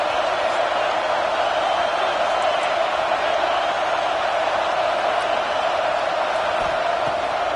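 A college football stadium crowd roars on a big third down in a Michigan at USC game, a loud, sustained wash of cheering that holds steady throughout.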